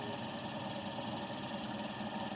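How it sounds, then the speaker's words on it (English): A dual rotor flat disc motor generator with hall effect triggering runs with a steady, dense mechanical hum and buzz. The tone stays even throughout, close and continuous, with no voices. "get this thing going 800 RPM steady"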